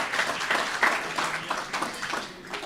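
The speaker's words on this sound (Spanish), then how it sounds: "aplauso para el hermano Jeremy." Applause at a church gathering welcoming a brother, dense clapping from a congregation that is fairly loud and steady, with a few sharper claps standing out and no talk over it.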